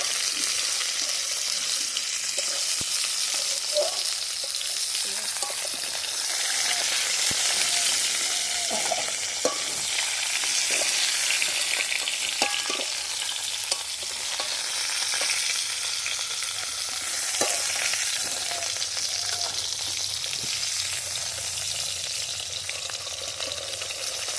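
Fish frying in hot oil, a continuous bright sizzle with scattered crackles and occasional utensil taps throughout, close and fairly loud.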